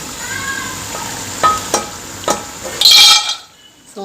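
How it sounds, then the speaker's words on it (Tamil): Cutting biscuits fry in hot oil, a steady close sizzle broken by several sharp clinks of a metal utensil against the pan, before the sound cuts off near the end. "நல்லா கலர் சேஞ்ச் ஆகி நல்லா ஃப்ரை ஆகிட்டு இருக்குங்க"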